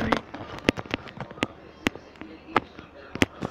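Video game gunfire pops as a rapid, irregular series of sharp, close shots, about a dozen cracks over a few seconds, with faint talking underneath.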